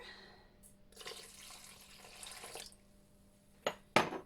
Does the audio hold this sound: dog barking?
no